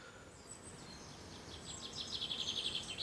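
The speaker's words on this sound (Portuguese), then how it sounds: "Tá dando para ouvir o som dos pássaros?" Birdsong in the outdoor setting of a guesthouse, heard as faint high chirps and twittering that grow a little stronger toward the end over a steady background hiss, with no voices.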